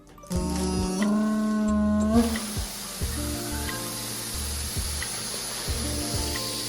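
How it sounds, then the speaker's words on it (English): A helium tank valve inflating a balloon gives a continuous loud gas hiss, with rubbery squeaks and a regular rhythm of soft knocks under it, close and without talk. "as you can see, the balloon is now starting to inflate"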